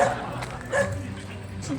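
Dogs barking in a Delta Games shooting video game, short yips and barks under a player's talk.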